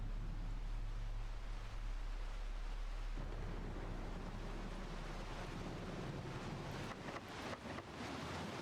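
Loud, steady rain ambience fills the background of a horror video game as a dense, constant wash, with a low rumble early on and a few brief bursts near the end.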